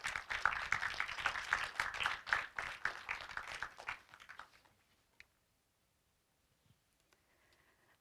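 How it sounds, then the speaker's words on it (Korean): An audience applauds at the Korea Online Journalism Awards ceremony at Korea University, giving a dense, steady burst of clapping for about four seconds that fades out into near silence. "박수 부탁드리겠습니다"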